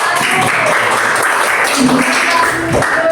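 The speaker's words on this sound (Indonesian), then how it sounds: "Beri tepuk tangan untuk kelompok 1" Steady applause from a gathering of students clapping for group 1 after a presentation, dense and even throughout, with voices mixed in.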